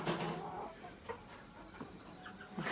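A chicken caught for slaughter in a backyard gives several scattered clucks, close and fairly quiet, with short pauses and a louder squawk near the end.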